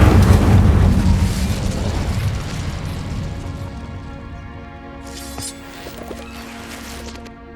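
The Incendio fire spell cast in Hogwarts Legacy: a loud whooshing burst at the start that rumbles and fades over several seconds, leaving quieter game ambience with faint chirps.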